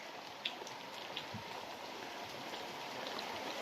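Steady rain falls with a soft, even hiss and scattered drop taps during a long downpour in a flooding neighborhood. The sound stays faint and distant, with no voices.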